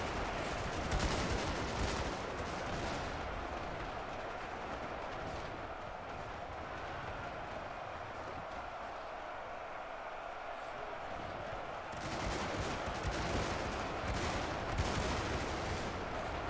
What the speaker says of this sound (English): these guys should start firing across there